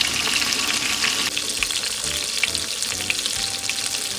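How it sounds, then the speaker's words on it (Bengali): Bhetki fish pieces frying gently on low heat in mustard oil in a frying pan, giving a steady, close hiss and crackle of sizzling oil with small pops. The sizzle is loud and continuous, and no one talks. "এবার একটা একটা করে মাছ কিন্তু হালকা হালকা করে দিয়ে আমি একটু হালকা আঁচে এটাকে ফ্রাই করব"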